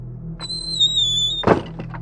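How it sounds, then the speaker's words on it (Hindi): A wooden door bangs with a single loud, close thud and rattle, preceded by a high steady whistling tone. "दरवाजा खोलो भाई।"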